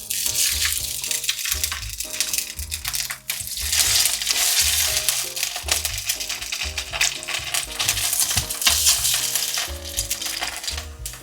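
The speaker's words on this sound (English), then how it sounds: "I've heated a little bit of sesame oil in the pan, and I'm going to fry these on both sides until they're golden brown" Slices of lo bak go (radish cake) fry in sesame oil in a pan, giving a steady, close sizzle with faint scraping, heard under continuous background music.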